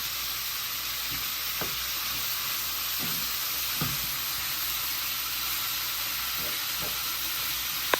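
Curry peppers, tomato and shrimp frying in a pan, a steady close sizzle and hiss with a few soft stirring knocks and no talk.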